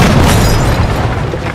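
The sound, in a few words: explosion from explosives in Jagged Alliance 3 video game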